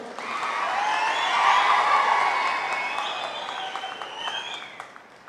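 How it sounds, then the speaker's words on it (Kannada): A large crowd at a Kannada cultural event in Belagavi claps loudly and steadily, a dense wash of applause swelling to a peak and slowly tapering, with some scattered cheering mixed in. "ಹೊಡೀರಿ ಜೋರಾಗಿ ಒಂದು ಚಪ್ಪಾಳೆ."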